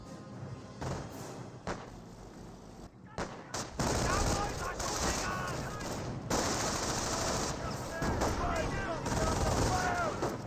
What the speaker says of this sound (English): We've got the suppression coming out from the MG42.